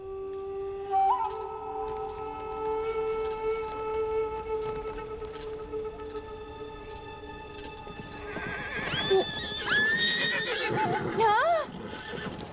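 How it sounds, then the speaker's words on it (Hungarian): Frightened horses on a cowboy-style ranch whinny shrilly and gallop off, with a long held neigh early, pounding clip-clop hoofbeats throughout and a cluster of loud, wavering whinnies near the end, close and fairly loud. "Valami megijesztette a lovakat, és elszabadultak"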